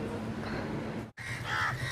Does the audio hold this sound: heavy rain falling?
no